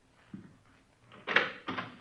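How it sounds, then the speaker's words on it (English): An old radio drama soundscape of a door being opened, with a low soft knock or thud followed by two louder, brighter scraping clunks of the latch and door moving, fairly close and quiet overall, without speech. "Go ahead. Open the door."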